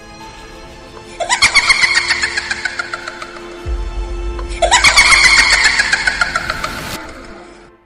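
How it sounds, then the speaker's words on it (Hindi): A car engine cranks and catches twice in quick succession, each start rising into a loud revving roar that settles to a steady idle, close by and without talk. "जल्दी गाड़ी चलाओ"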